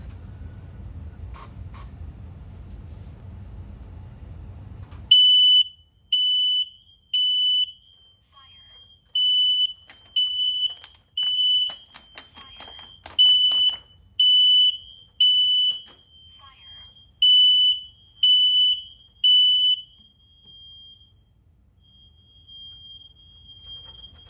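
A smoke alarm under a smoke test gives loud, piercing high-pitched beeps in a steady repeating pattern, following a short burst of low rumbling noise at the start.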